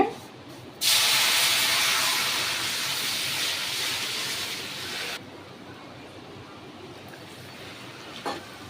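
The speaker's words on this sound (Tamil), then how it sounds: "சூடான தண்ணி ரெண்டு கப் இதில் சேர்த்துக்கோங்க" Hot water poured into roasted semolina for kesari, a loud steaming hiss that bursts in suddenly, holds for about four seconds, then drops to a faint background.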